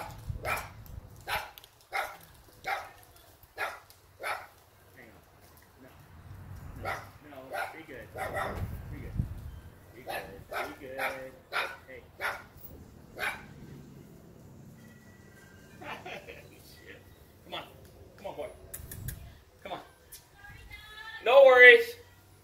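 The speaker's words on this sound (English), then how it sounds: "It's one of my neighbors having an annoying little dog that's always coming over here." Small dog barking in repeated sharp yaps, fairly close, in bursts with pauses between, while a person talks intermittently over and between the barks.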